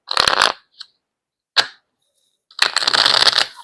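Oracle cards are shuffled in quick, crisp riffling bursts, a short one, a brief flick, then a longer shuffle, close and clear with silence in between.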